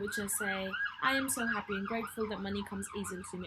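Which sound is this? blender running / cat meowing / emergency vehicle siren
emergency vehicle siren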